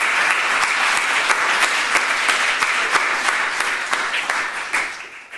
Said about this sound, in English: So just a big round of applause for them making this possible.